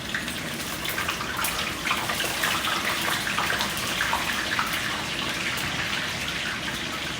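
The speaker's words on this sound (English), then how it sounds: "I got water dripping down from the spatula." Water drips from a spatula into a pan where fish fries in oil; a steady, loud sizzle with scattered crackles and pops runs throughout.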